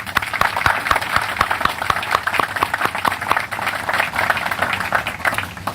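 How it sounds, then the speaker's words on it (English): Audience applause at an outdoor groundbreaking ceremony for the Hawaii State Hospital, a dense, steady patter of many hands clapping that fills the whole stretch at moderate loudness with no talk over it. "Let's give them all a round of applause."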